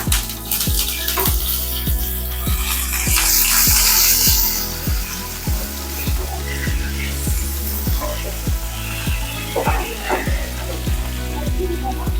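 Cumin seeds and curry leaves fry in hot oil for zhunka, a steady close sizzle with bubbling crackle throughout and a faint stir near the end, no voices.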